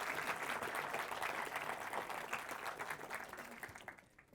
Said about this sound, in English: let's put our hands together in the traditional way